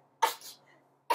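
Two quick, close sneezes about a second apart in a quiet room, the first followed by a short breathy trail.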